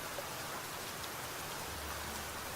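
Heavy rain in the survival game Niche hisses as a dense, steady, broadband wash, constant and unbroken, with no voices.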